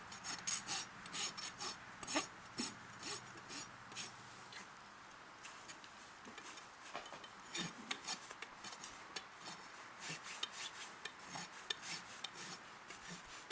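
A hand rasp files the edge of a horse's hoof to bevel it during a barefoot trim, giving close, repeated scraping strokes in an irregular rhythm with small knocks and shuffles between them.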